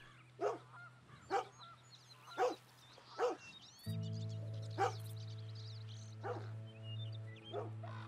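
Collie dog in the video game Red Dead Redemption 2 barks repeatedly, about eight sharp, evenly spaced barks at moderate distance over a low game-music drone that grows louder midway; no talking.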